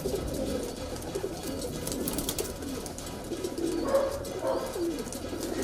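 Kalpare high flyer pigeons coo in a loft in Patna city, making soft, repeated throaty calls over a constant low background hum.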